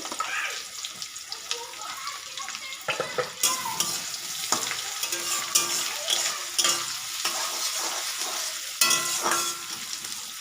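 Onions and garlic frying in a pan, a dense crackling sizzle with wet spattering and intermittent stirring clatter, close and continuous, no one talking.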